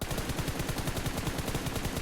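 Rapid bursts of PUBG Mobile gunfire crackle in a steady automatic rhythm, loud and close, with no voices over them.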